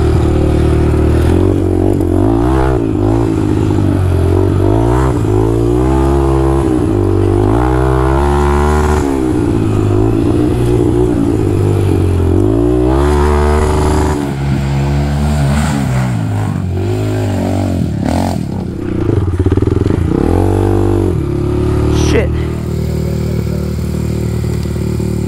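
A Honda 300EX quad engine revs loudly and steadily throughout, with rising and falling throttle sweeps and some mechanical clatter on an outdoor race track.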